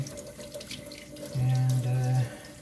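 Water runs steadily from a tap for about a second during wet sanding of a 1:100 scale Concorde model, a smooth rushing stream over faint background clatter.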